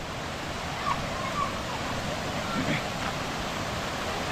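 Waterfall at Kakkadampoyil pours as a constant broad rushing roar, steady and fairly loud throughout, with faint voices murmuring beneath it.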